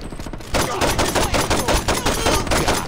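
Rapid bursts of heavy gunfire from a tank in the video game Saints Row 2, loud and continuous with a fast, pulsing rhythm that runs without a break after a brief lead-in.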